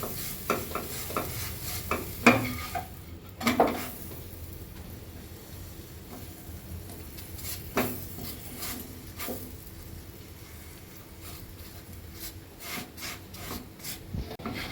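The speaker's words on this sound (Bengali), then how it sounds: "দেখো আমার এই রুটিটা ভাজা হয়ে গেছে" An oats-stuffed roti fries in a pan with butter or ghee, a soft sizzle broken by scraping, rubbing strokes of a spatula and a few sharp knocks, fairly quiet and without talk.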